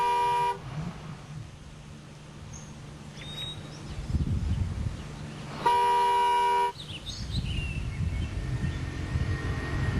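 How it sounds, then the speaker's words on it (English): A car horn blares in two long, loud, sustained honks, the first at the start and the second a few seconds later, with outdoor rumble and faint chirps in between. "My instructions were to stay in the car and honk my horn until somebody came to fetch me."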